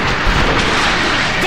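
Panzerwerfer rocket artillery firing in Call of Duty 2, a dense, loud roar of rocket launches and blasts, continuous and harsh throughout a short burst.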